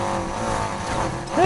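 A Volkswagen Mark II GTI in the Need for Speed Heat racing game, with a car engine droning under game sound and a sharp rising tire squeal near the end of the short clip.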